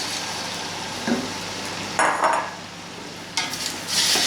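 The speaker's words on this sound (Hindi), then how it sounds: "अब जो मैंने ये टमाटर स्लाइस किए हुए रखे हुए, ये हम इसके अंदर डाल के और इसका अच्छे से फ्राई करेंगे।" Sliced tomatoes land in hot oil for chicken koyla karahi, setting off loud bursts of sizzling spatter over a steady background fry, the strongest surges arriving twice in quick succession.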